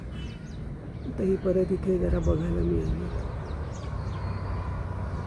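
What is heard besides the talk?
birds calling outdoors in nature, Nashik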